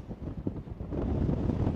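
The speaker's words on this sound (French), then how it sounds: "Là, le vent se lève, on doit avoir 15-18 nœuds là, au mouillage en ce moment" Wind rises at an anchorage off Bequia, around 15 to 18 knots, a close, low rushing buffet against the microphone that grows steadier and louder over a short stretch.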